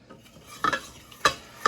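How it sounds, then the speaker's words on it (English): Butter and flour roux cooking in a pan, stirred with a utensil: a soft sizzle under three distinct scraping strokes against the pan, close and clear. "I'm going to just continue to stir to help keep this roux moving and not burning"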